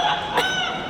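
An Amazon parrot at a bird park show mimics a rooster's crow with a short, loud, nasal, strained call that is close and clear over quiet surroundings.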